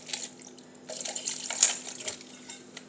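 Alcohol poured while making pasta, a thin trickling stream that sloshes and swells in short bursts, close and fairly quiet, with no talking.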